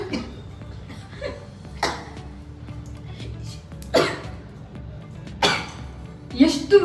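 Dry-roasting masala spices for an oil-free chicken curry in a home kitchen sets off a few short coughs and throat clearings, spaced out and fairly close, over quiet kitchen background.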